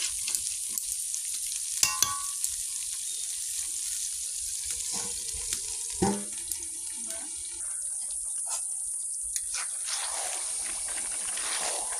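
Meat stir-fried in a pan makes a steady sizzle and hiss, with sharp spatula scrapes and clinks against the metal now and then, close up and with no talking.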